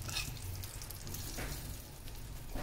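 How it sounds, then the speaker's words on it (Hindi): Desi ghee tadka sizzles in a pan for kale chane sabji, a steady frying hiss with a brief crackling burst at the start, close and moderately loud, with no voices. "थोड़ा सा देसी घी का तड़का आप लगा दें"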